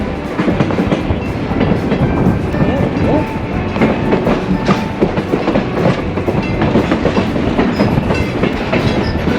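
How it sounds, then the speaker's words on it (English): Steady clickety-clack of a historic trolley rolling along the tracks at a railway museum in Southern California, loud and continuous, with a brief spoken word partway through. "It's all to give you an idea of what a train ride is really like."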